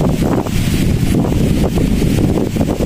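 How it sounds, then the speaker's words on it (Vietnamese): Wind gusting outdoors at a home construction site where a porch roof is being built, a steady loud broadband rush buffeting the microphone throughout with no talk. "Giờ trời gió lên"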